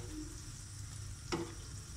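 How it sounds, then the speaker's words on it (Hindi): Potato and onion pakoras fry in hot oil in a kadhai, giving a steady, faint sizzle with a brief clink partway through. "मैंने दूसरी बार फिर मैंने पकोड़े डाल दिए कढ़ाई में।"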